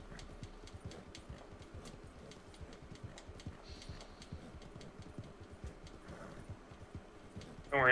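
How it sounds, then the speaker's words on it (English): A horse gallops in the video game Red Dead Online, a steady, quick run of soft hoofbeats kept at low level throughout, with a brief louder sound at the very end. "Come on, horse. Ride like the wind."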